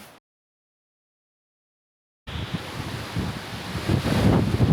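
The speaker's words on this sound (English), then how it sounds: "I don't know if you can tell, but it is significantly windier." Strong wind roars across a mountain hiking track, buffeting the microphone after a moment of silence and building into a loud, gusty rush with no voices.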